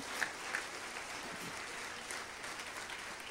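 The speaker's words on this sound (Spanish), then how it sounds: "dale un fuerte aplauso al Señor" Congregation in a church service clapping together in praise, a soft, somewhat distant wash of applause with a couple of brief louder peaks near the start.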